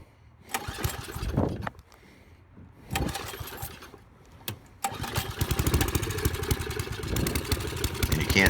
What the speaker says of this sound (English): Now it's only taking a few pulls to get it started